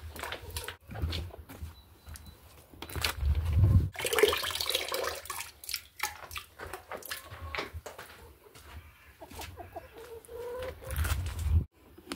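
Young chickens and hens in an outdoor run clucking intermittently, with scattered soft calls and a few louder bursts at moderate distance.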